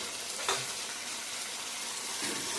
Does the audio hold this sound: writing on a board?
no